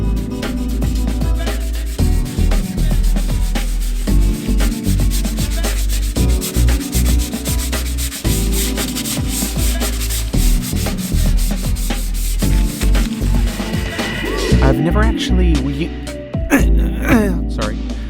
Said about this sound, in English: time to sand it down